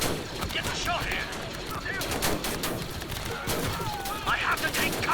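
Rapid blaster gunfire in the Star Wars: Galaxy at War Clone Wars base defense mod, with dense overlapping volleys and bursts sounding continuously, some near and some distant, with faint electronic whines.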